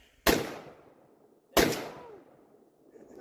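Two loud, sharp gunshots a little over a second apart on an outdoor shooting range with steel targets, each with a crisp crack and a decaying echo, no talking.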